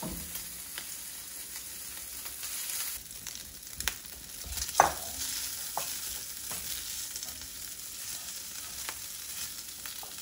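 Arugula frying in a pan as it is stirred, a steady soft sizzle with a few sharper scrapes and clatters near the middle, heard alone without talk.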